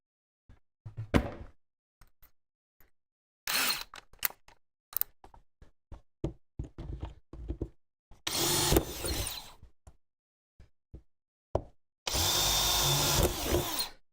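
A power drill with a dull 1/8 inch bit bores into sheet metal in three loud, harsh bursts of a few seconds each. Scattered clunks, taps and handling knocks fill the gaps between them, with no talking.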